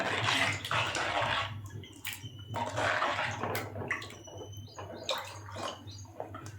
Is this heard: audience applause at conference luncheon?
no